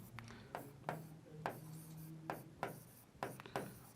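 Pen strokes scratch across paper in short bursts, a run of quick scribbles separated by brief pauses while a maths answer is jotted down, close and fairly quiet.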